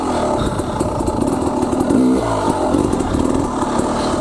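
An enduro motorcycle engine runs close and loud under clutch and front-brake control, a steady throbbing drone with a brief throttle blip that rises in pitch around the middle.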